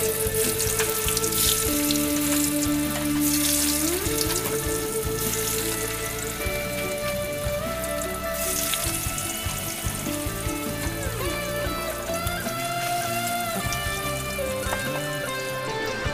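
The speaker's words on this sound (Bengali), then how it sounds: "পনির কিন্তু খুব কড়া করে ভাজবো না, একদম হালকা করে এপিট ওপিট করব" Salted paneer pieces sizzle and crackle steadily in hot oil in a kadai, a continuous bright frying hiss with background music playing over it.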